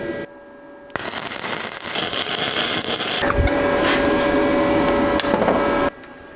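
A 1970 engine on a budget test stand cranks over after more than thirty years out of use, a steady loud mechanical churning that holds for about five seconds, then cuts off abruptly.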